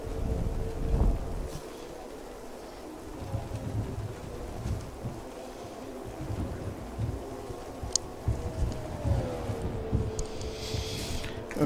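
Rain falls on the Circuit de Catalunya track in the F1 2017 racing game, a continuous wash of spray and wet noise under the hum of a race car's engine, with rumbling gusts throughout.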